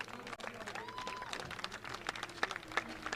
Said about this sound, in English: So a round of applause for great participation and the great talent of cricket